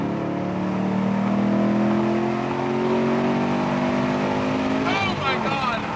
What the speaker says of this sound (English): why does it keep going faster and faster? I'm in third gear.